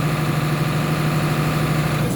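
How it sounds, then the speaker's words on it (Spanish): A tractor engine settling at low idle after being revved, a steady continuous rumble with a strong low hum, moderately loud and close, with no talk over it. "Desacelero y baja la revolución de ralento, que es el mínimo con que trabaja el tractor"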